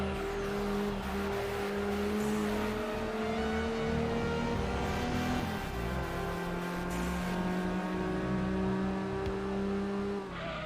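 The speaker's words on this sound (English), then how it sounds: "you start this right on the rev limiter" A race car in Gran Turismo 2 sits bouncing on the rev limiter at the start, a loud, steady, buzzing high-rev engine drone held close for several seconds with slight wavering pitch and no voices.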